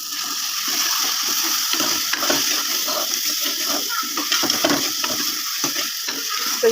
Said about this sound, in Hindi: 2 से 3 मिनट हमने दही के बाद इसको भुना है।